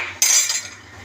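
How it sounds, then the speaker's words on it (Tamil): Spoon scraping and stirring through fish curry with tamarind water in a metal pot, one bright close scrape that fades out quickly, no voices. "நல்லா கிண்டி கொடுத்துக்கிறோம்"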